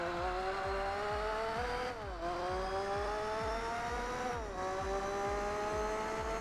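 A V8 car engine in Gran Turismo 4 on PS2 drones steadily at speed, its pitch rising through the gears with two brief dips at shifts, a continuous buzzing roar.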